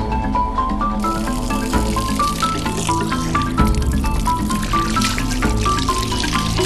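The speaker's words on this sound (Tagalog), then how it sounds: "Isa ito sa mga linya ng pinanggagalingan ng malinis na tubig dito sa Barangay Oliva, Basud, Camarines Norte." Clean spring water runs from a source line in Barangay Oliva, Basud, Camarines Norte, a steady, loud, unbroken rush and trickle with faint tonal ringing mixed in.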